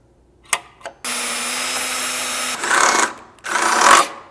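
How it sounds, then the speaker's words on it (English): A power drill whines in a steady high-pitched run for about a second and a half, followed by two rougher bursts drilling half-inch holes while installing a rear bumper on a Jeep XJ. "we're going to need to drill a couple half-inch holes"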